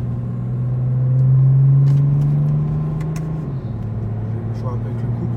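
A BMW 335d diesel engine accelerating, heard from inside the car with the windows closed: a loud, steady low drone swells, then drops in pitch at a gear change and settles into an even hum.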